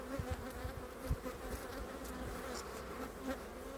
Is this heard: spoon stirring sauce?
no